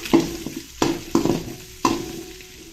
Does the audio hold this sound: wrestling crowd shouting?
no